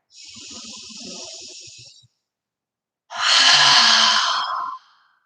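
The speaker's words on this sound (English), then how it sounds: "Last deep breath." Two deep exhaled breaths during a gentle yoga class, close and breathy, with the second longer and louder than the first and a silent gap between them.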